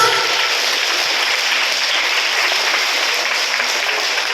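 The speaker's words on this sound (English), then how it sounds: "Give him a big round of applause." A big round of applause at a reading week celebration, dense and steady from start to finish without letting up, with no voices heard over the clapping.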